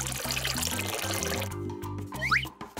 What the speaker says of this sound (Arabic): هحطه زي السرير واملاه مية